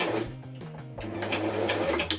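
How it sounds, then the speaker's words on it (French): Sewing machine stitching backward on a beginner pouch project, a steady close mechanical whir and needle chatter with a slight change in pace midway, no speech. "j'active ma petite molette pour coudre en arrière et je vais faire exactement le nombre de points en arrière"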